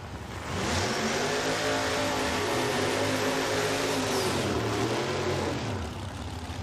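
A hot rod drag racing car's engine roars loud and steady at a drag strip, a heavy mid-pitched revving drone holding nearly constant for several seconds before easing slightly at the end.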